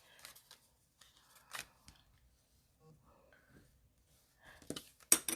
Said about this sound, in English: let's take our little mini card here and fold and burnish it